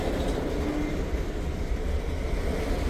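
Ohio Central Railroad freight train from Zanesville, a long consist of sixty or more cars, picking up speed as it rolls into Newark; a steady low rumble and rail noise close by, without talk.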